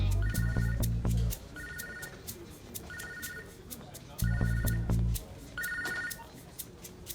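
A telephone rings in repeated electronic bursts, about five rings spaced roughly a second and a half apart, over low background music with faint talk.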